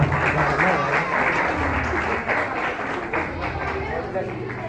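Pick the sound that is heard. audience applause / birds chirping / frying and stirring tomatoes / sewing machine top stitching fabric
audience applause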